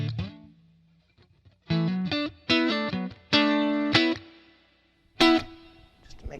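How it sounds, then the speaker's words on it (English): An electric guitar plays through a Boss Katana 50 MkII practice amp with a little reverb added, sounding a few sustained distorted notes and chords in short bursts, with ringing tails between phrases. "All right, so we'll give it a little bit of verb."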